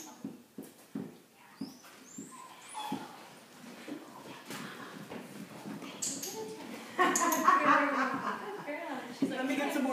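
A puppy whimpers and yips in short, repeated cries, with a person speaking softly nearby and the whining growing louder toward the end.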